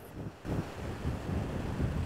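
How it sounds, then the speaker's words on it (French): Wind gusting steadily across a mountain hunting ground in the Écrins massif, Hautes-Alpes, a close, rough rushing that buffets the microphone with no voices. "Le vent force de nouveau."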